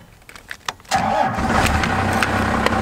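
A wrecked first-generation Cummins diesel truck, its ignition removed and started with a screwdriver, cranks briefly with a few sharp clicks before the engine catches and settles into a loud, steady rumbling idle, close and alone.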